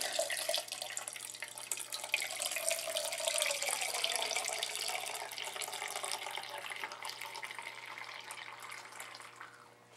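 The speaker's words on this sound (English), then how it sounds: "So I'm going to use my spigot and get out some of my beer that's been brewing." Homebrewed American amber beer runs from a fermenter spigot in a steady, close pouring stream that holds for several seconds before tapering off at the end, with no talking.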